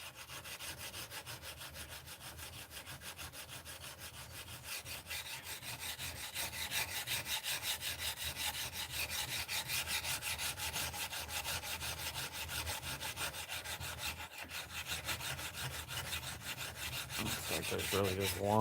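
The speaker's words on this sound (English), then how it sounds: "when you're doing this kind of hand sanding thing" Wood being hand sanded with continuous, close rasping strokes in a steady back-and-forth rhythm that grows slightly louder partway through and runs on without talk.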